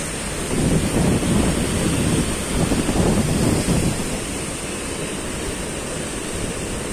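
Rough sea surf pounds the shore in Alexandria after Storm Daniel, a loud continuous roar of breaking waves with strong wind buffeting the microphone, easing slightly toward the end; no voices.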